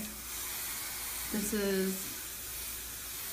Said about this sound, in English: So how to do that is I take hairspray.